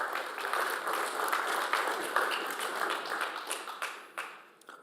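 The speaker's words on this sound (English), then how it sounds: "So, round of applause." An audience at a cloud native tech conference gives a round of applause, a dense patter of clapping that swells briefly then tapers off into scattered final claps.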